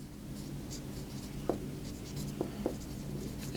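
Chalk or marker writing on a board while a trigonometry problem is solved, producing a few faint taps and short strokes over a steady low room hum.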